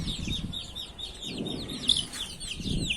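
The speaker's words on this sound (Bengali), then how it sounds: "এই যে দেখতে পাচ্ছেন মুরগির বাচ্চাগুলা কি করতেছে, এগুলা খাওয়ার জন্য একদম পাগল হয়ে গেছে" Young chicks on a poultry farm cluck and peep busily over scattered feed, a continuous excited chatter of many birds close by with no talking.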